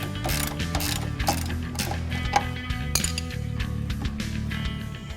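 A ratchet wrench snugs down rack and pinion steering bolts on a 1967-1970 Mustang with fast, repeated close clicking, interrupted by occasional metallic clinks.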